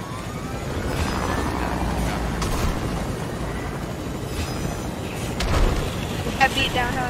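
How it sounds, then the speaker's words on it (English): Helicopter rotor and engine drone in a video game, a steady broad roar running throughout with brief louder bursts, under people talking. "There's a helicopter right here, by the way."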